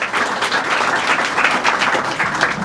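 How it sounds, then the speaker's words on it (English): Dense, steady applause from a theater audience at an acting studio showcase, close and continuous for a few seconds with no talking. "Big round of applause to you."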